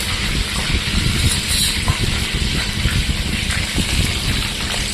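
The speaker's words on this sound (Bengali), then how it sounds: "সেই পাতুরি তেলে ছাড়লাম" Fish paturi, parcels of bhetki fish, frying in hot oil, giving a steady, dense sizzle that runs evenly and close throughout with no voices.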